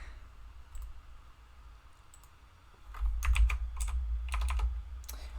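Computer keyboard typing in a bursty, uneven rhythm of close clicks and key presses, starting sparse and turning into rapid clusters of keystrokes over a low hum.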